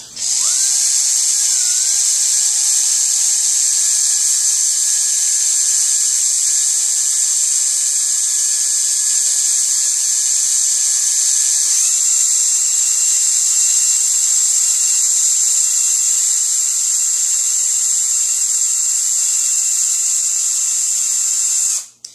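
Loud yarn-winding machine filling a bobbin, a sustained high-pitched electric whine with a hissing edge that runs steadily and close for over twenty seconds, its pitch shifting slightly midway before cutting off.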